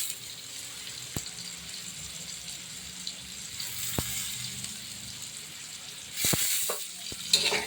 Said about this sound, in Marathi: छान तेलामध्ये फ्राय करायचा बॉम्बे